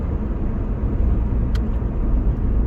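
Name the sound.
2004 Pontiac Vibe car driving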